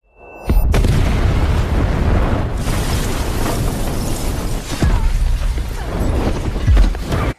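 A loud booming explosion bursts out and keeps roaring with crashing debris and rumble for several seconds, ending abruptly.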